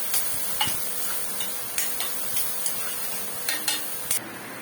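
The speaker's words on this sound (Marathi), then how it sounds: "छानपैकी आपल्याला कढईमध्ये फ्राय करून घ्यायचा आहे कांदा." Onion frying in a kadhai for a tondli dish cooked chicken-style, with a steady low crackle and hiss broken by scattered sharp clicks and taps of a utensil against the pan, moderately close.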